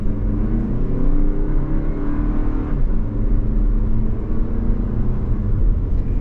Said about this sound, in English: And this engine just picks you up and goes